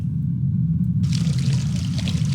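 Black tea pours into a cup with a short splashing gush that starts suddenly and continues over a low background rumble.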